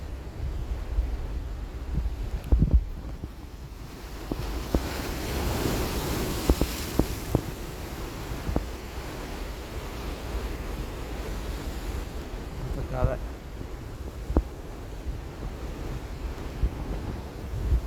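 Strong sea waves and rushing rainwater flood at the Kizhur estuary in Kasaragod, a steady loud roar of surf and churning water with gusting wind buffeting the microphone throughout, with no voices.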